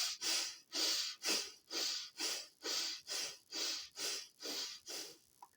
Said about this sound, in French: Tu ne fais pas cette respiration-là rapide, tu la fais lentement.